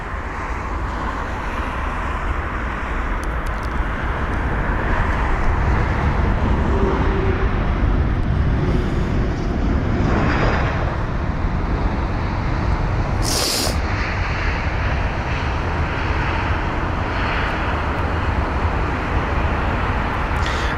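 A Bulgaria Air Airbus A220-300 lands at London Heathrow, its steady, loud broadband roar filling the whole span with only small swells and one brief higher hiss partway through.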